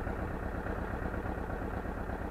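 A tractor engine drones steadily while pulling tooth harrows across ploughed virgin land, a low, even rumble heard at moderate distance with no voices.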